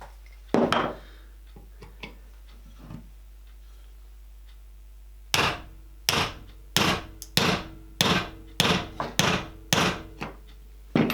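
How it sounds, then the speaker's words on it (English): A few scattered light knocks, then a steady run of sharp hammer blows on wood, close and loud, about a dozen strikes in quick succession. "I'm going to try to hammer that down."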